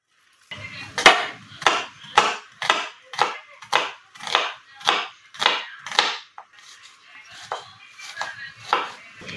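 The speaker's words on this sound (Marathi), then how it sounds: "कांदा एकदम बारीक कापून घ्यायचा" A small onion being chopped finely with a knife on a board, about a dozen crisp, evenly spaced knocks at close range, slowing and fading toward the end, with no talking.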